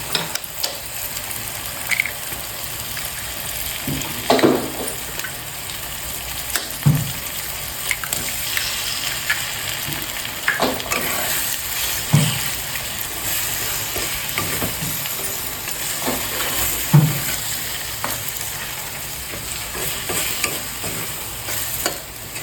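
Three eggs fry in a hot pan with a steady, fairly loud sizzle, broken by regular scraping and clinking strokes as they are stirred, for egg rice.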